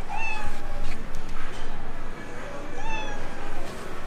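A loud, close kitten meowing over and over in a steady repeating loop from a phone ringtone, with a thin high chime between the meows.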